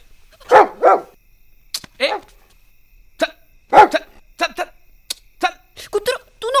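Dog barking indoors in a Marathi drama scene, a series of sharp, separate barks and yips spaced irregularly, close and loud, alternating with people talking.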